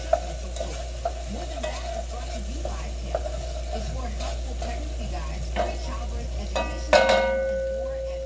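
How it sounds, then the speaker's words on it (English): Fried cabbage and corned beef sizzle in a pan while a utensil stirs, knocking and scraping against the metal at intervals, with a low steady hum underneath. "I'm gonna stir these up a little bit, get that seasoning up in there."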